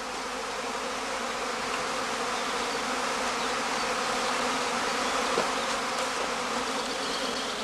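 Honeybees buzz in a steady, dense drone at a heather skep apiary during swarming season, a continuous close hum with no voices.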